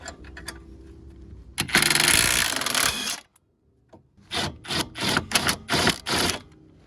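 A wrench works a 17 mm nut off the lower control arm of an S13 Silvia, with a long burst of rapid ratcheting, a pause, then several short ratchet runs, close and loud.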